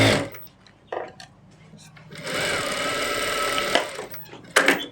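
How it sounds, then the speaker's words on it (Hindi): A sewing machine stitches the side seam of an Afghani salwar in a steady mid-clip burst of about a second and a half, set between short bursts of voice. "इसी तरह हम दूसरी तरफ भी सिलाई लगाएंगे"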